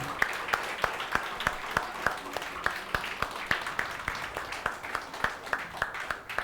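A church congregation claps for Jesus in a steady, even rhythm, each sharp beat ringing out in unison at a moderate level with a faint wash of scattered claps between.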